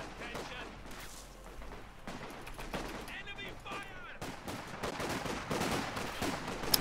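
Machine gun fire in a World War II strategy game match, rapid bursts of gunshots running throughout alongside other battle noise, with a commentator talking over it.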